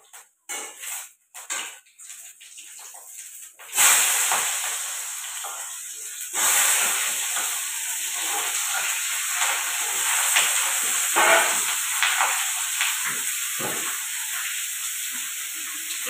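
Potatoes and green banana fry in oil with panch phoron and dried chillies, giving a steady sizzle and hiss, preceded by clattering of utensils against the pan and followed by occasional scrapes.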